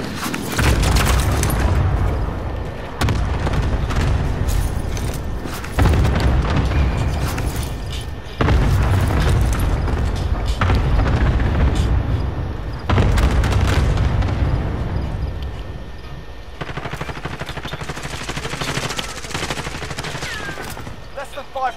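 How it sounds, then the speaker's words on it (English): Precision airstrike explosions in a multiplayer shooter, a relentless run of heavy booms and rattling gunfire roaring loud and close for over twenty seconds, with voices mixed into the din. "friendly precision airstrike inbound"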